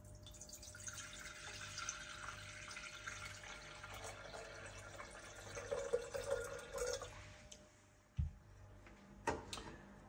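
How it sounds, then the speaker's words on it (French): About 600 ml of water is poured into the carafe of a Sage The Tea Maker, a steady close splashing stream lasting several seconds before it stops, followed by a few light knocks. "on va pouvoir verser l'eau à l'intérieur de la carafe"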